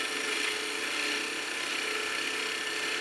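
A wood lathe gouge cuts a gnome Christmas ornament with a light cut, producing a continuous, close, dense rasping hiss of tool against spinning wood throughout the short stretch, with no speech.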